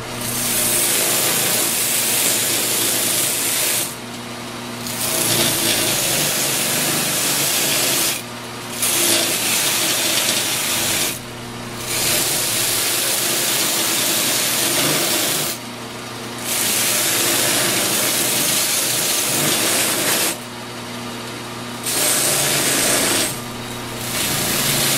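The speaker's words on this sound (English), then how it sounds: "I'll take all these pieces now and I'll rub them over the mop as it spins" Wooden pretzel puzzle pieces pressed against a spinning sanding mop: a steady, loud whirring buzz with long sustained stretches broken by several brief drops where pieces are lifted away.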